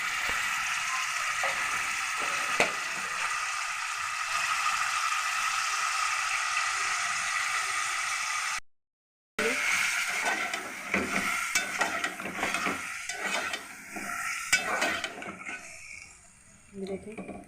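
Ginger garlic paste sizzling and frying in a pot while being stirred, a loud, steady hiss with scraping clicks from the spoon, running continuously with a brief gap partway through.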